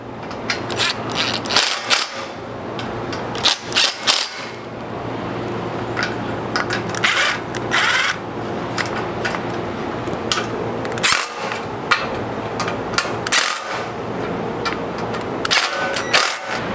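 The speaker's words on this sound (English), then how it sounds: "We're going to tighten these top two first just to kind of help draw this up" Bolts on a JT Gladiator bed rack mount are tightened, with repeated sharp ratchet clicks and metallic clacks in irregular bursts over a steady background hum.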